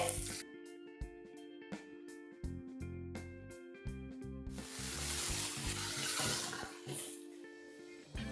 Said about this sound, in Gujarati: હવે એમાં પાણી એડ કરીએ છીએ લગભગ પોણો ગ્લાસ પાણી એડ કરીએ છીએ